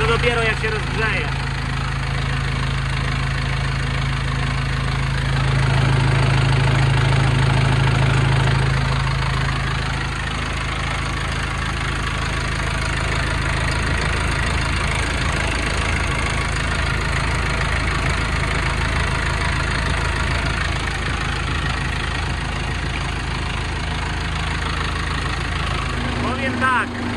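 A John Deere 4045 Tier III diesel tractor engine idles steadily while warming up and rumbles without pause, with a heavier surge partway through before settling back into its even running.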